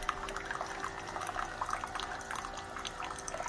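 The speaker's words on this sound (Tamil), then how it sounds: "எல்லா தண்ணியும் வந்து சுடு தண்ணியாக வரும்" Hot water flows steadily from a Keurig Mini coffee maker during descaling, a faint, continuous trickle and splash with small dripping spatters throughout.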